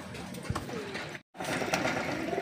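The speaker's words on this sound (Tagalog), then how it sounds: "ang ating mga pandigma na mga ibon" Racing pigeons coo softly inside a pigeon loft, low throaty calls rising over a steady rustling background, broken by a brief silent gap midway.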